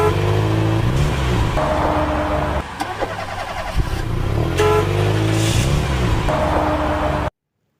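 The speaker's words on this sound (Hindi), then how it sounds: "एक दिन रानी चिड़िया अपनी गाड़ी में मीनू चिड़िया के पास जा रही होती है।" Cartoon car driving along in an animated birds story, a steady loud engine hum with revving swells, heard alone without talk.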